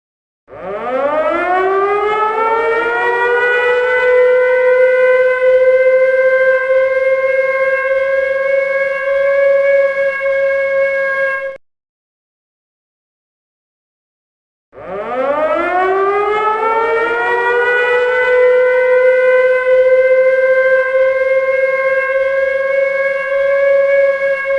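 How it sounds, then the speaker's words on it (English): A homemade siren at a college football playoff celebration winds up and wails loud and steady for about eleven seconds, falls silent for a few seconds, then rises and wails again just as long. "I got a little siren that we made tonight."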